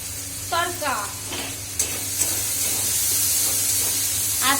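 Paneer tarka for a lentil dish frying in a pan, a steady close sizzle and hiss, with a few brief vocal sounds and clinks over it.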